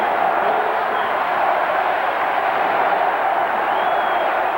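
A hockey arena crowd at a 1990 NCAA college game between Maine and Wisconsin roars in a dense, steady wash of cheering and noise with no break.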